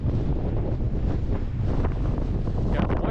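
Strong wind blasts across the microphone at a lakeside point with whitecaps on the lake, a loud, continuous rumble with gusty surges, close and rough, drowning out everything else.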